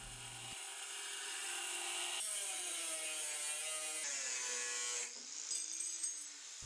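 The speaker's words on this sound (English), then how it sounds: "I'll finish profiling the knife using my 2x72 belt sander." A 2x72 belt sander grinds the profile of a Damascus steel knife, a steady, loud abrasive whine with a shifting pitch as pressure changes, running continuously up close with no voices.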